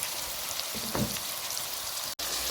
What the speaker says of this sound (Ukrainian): В розогріту сковорідку я кладу моркву